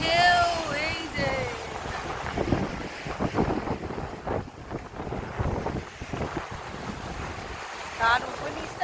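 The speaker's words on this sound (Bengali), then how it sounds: "তো এখন সমুদ্রের পাড়ে দেখো কি হাওয়া আর কি ঢেউ।" Sea waves surge and wind buffets the microphone on the beach at Digha, a loud, continuous roar of surf with gusts, while people talk over it in places.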